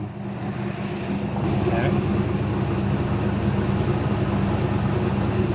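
An LS-powered rescue airboat engine runs steadily at a constant roar with a strong low drone, loud and close, while a voice speaks briefly over it.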